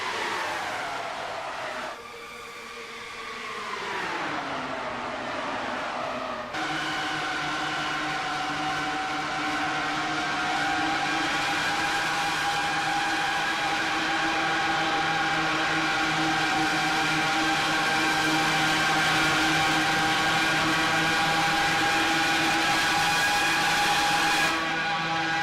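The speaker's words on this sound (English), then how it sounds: "Let's get a listen, though, to the noise of these naturally aspirated engines." Naturally aspirated race car engines at full throttle in an iRacing Grand Prix series round at Texas Motor Speedway, a loud sustained high-pitched engine wail after a brief rev and gear change, without any talk.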